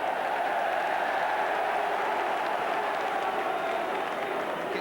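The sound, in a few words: football crowd noise at Leeds v Manchester United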